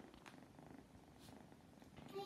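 A house cat's quiet, continuous purr sounds close up as a faint, even rumble with no voices.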